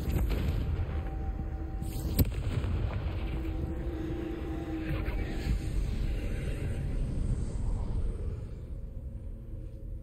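A Confringo fire-blast spell explodes in Hogwarts Legacy, producing a booming burst with a sharp crack near the start followed by a sustained low rumble that gradually fades.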